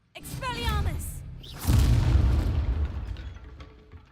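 Expelliarmus spell cast in the Hogwarts Legacy video game: a sweeping magical whoosh rises into a loud, booming burst that rumbles and fades over several seconds, with a brief voice heard near the start.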